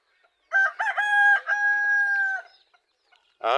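A rooster crows loudly and close on a farm, one long drawn-out call, followed by a short burst of chicken clucking at the end.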